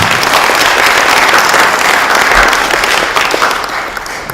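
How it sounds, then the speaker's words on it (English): A conference audience applauds the panelists after a panel discussion, with loud, dense, continuous clapping close by that holds steady throughout and eases slightly at the end. "let's give a big applause for them"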